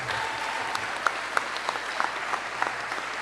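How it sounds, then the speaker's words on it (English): An audience at an 8th grade promotion ceremony applauds for the graduating students, a steady wash of clapping with a few sharper individual claps standing out. "So please give them all a great round of applause."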